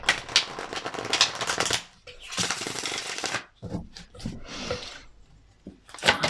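Tarot cards are shuffled and drawn close up, with dense riffling flutters and papery slaps in bursts broken by short pauses, plus crisp card snaps near the end.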